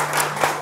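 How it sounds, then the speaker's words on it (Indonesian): A crowd in a cafe inside an office building applauds for Pak Marzuki Alie, a dense, steady wash of clapping hands that continues evenly through the short moment. "memberikan tepuk tangan yang meriah untuk Pak"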